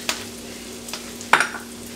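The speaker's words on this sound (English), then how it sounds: "Just want to saute that mushroom." Mushrooms and fresh herbs saute in a hot pan, a steady close sizzle with a few sharp pops and crackles, one louder burst near the middle.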